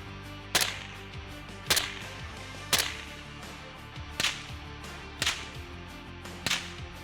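Six suppressed 300 Blackout rifle shots fired at a range, sharp cracking reports at roughly one-second intervals, each with a short fading tail, heard from a distance at modest loudness.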